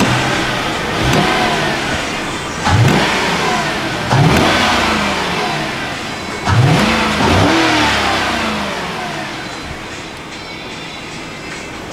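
A Lexus LS430 engine at operating temperature revs up sharply several times, each rise in pitch falling back to a steady idle, close and loud with no talking.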